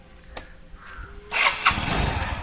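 A Suzuki Access scooter's electric starter whirs briefly, then the engine catches and settles into a steady running putter close by.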